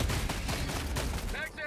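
A shotgun fires again and again in a chaotic Helldivers 2 battle, the blasts dense and continuous under other combat noise and a voice talking over them.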